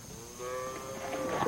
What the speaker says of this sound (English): Bring your healthy cattle over here and we'll run them through that sulfur dip.